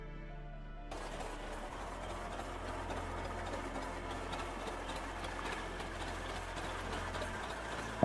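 A 1915 tractor engine, transversely mounted and sold through Harry Ferguson, idles in a steady low droning rumble that starts abruptly and holds an even, close mechanical hum.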